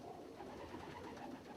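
A faint, distant, low cooing from a shell-crested, cream-coloured loft pigeon hums steadily under soft background noise, with no speech.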